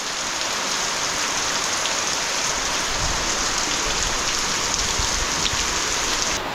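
Heavy, unseasonal April rain pours steadily on a Konkan village, a dense, continuous hiss of downpour drumming on surfaces, loud and unbroken throughout with no voices.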